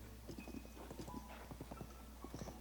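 Horse hooves clip-clop in a steady, fairly quick rhythm in Zelda: Tears of the Kingdom, moderately close over a constant low background hum.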